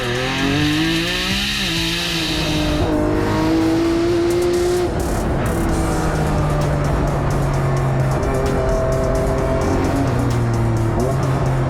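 A high-downforce time-attack race car driven hard on a circuit, its engine screaming through rising and falling revs with shifts, heard from a distance with a steady roar and no voices.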